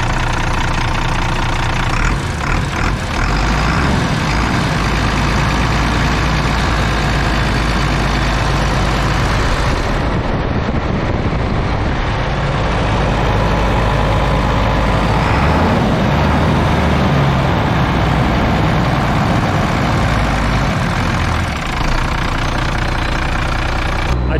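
A dump truck's diesel engine idles steadily while warming up, after a lift pump fault was fixed; a loud, close, continuous rumble with a slight knock, with no speech.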